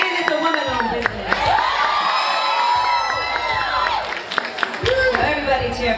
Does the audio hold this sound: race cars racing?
no